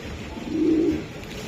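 A racing pigeon gives a single low, soft coo lasting under a second, close and fairly quiet against a muffled background.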